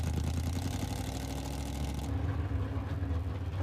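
A 1956 Chevy engine with exhaust headers running close by, a steady mid-pitched rumble with some clatter and no break in the sound.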